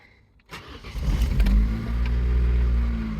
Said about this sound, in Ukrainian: З півоберту автомобіль заводиться.